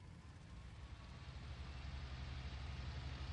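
A Messerschmitt Bf 109 engine spools up in IL-2 Great Battles, a quiet, steady rumbling drone that grows slightly louder and rougher over a few seconds, heard alone without talk.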